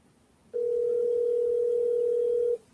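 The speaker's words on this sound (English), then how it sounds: "I will prank phone call the Neckbeard right now." A telephone dial tone sounds while a prank call is being placed, a single steady pure hum that starts abruptly, holds evenly for about two seconds and then cuts off, loud and alone over faint background hiss.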